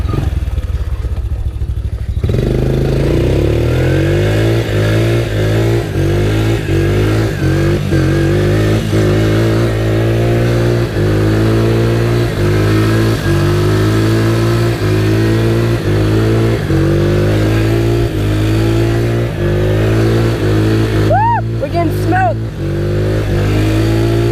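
An ATV engine revs hard and steadily through a big burnout, a loud close mechanical roar with a rising whine, holding for over twenty seconds before a short pitch swoop near the end.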